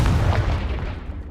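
A Confringo spell explosion in Hogwarts Legacy goes off as one loud, close, deep boom that fades over about a second.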